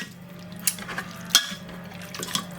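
A utensil mashes cooked mince inside a Russell Hobbs pressure cooker pot, giving a few faint, sparse metallic clinks and scrapes over a low steady hum.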